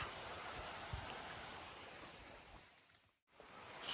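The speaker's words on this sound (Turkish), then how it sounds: "suyun sesi böyle gürül gürül geliyor" Steady broadband rush of flowing water, continuous and fairly loud, briefly dropping out near the end before returning.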